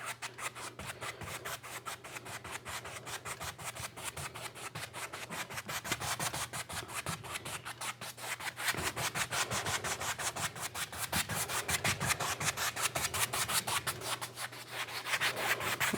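A paintbrush scrubs back and forth across canvas in quick crisscross strokes, blending and smoothing paint for a winter night snowfall scene. The strokes come as a steady, rapid, close rubbing rhythm, quiet and alone.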